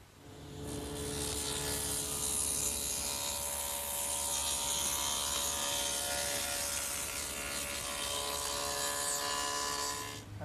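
A table saw cuts rabbets in 3/4 inch MDO plywood, giving a loud, steady whine and roar that holds for about ten seconds with no pauses. No voices.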